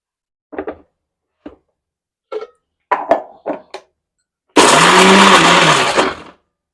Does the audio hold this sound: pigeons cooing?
no